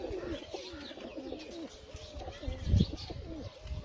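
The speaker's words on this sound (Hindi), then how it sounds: "ये जी कोटा चैंपियन कबूतर" Champion racing pigeons coo in low, repeated rolling phrases close by, with a brief louder thump partway through and faint voices in the background.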